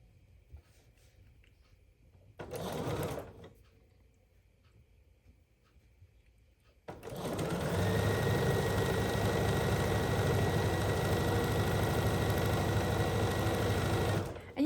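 A sewing machine stitches fabric while a flower quilt block is assembled, starting with a short burst of running, then a pause, then a long steady whirring run at constant speed, close and loud.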